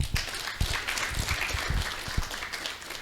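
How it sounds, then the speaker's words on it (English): Audience applause at the end of an HIV implementation science session, a small group clapping briefly and unevenly, fairly quiet and fading toward the end. "give yourself a round of applause"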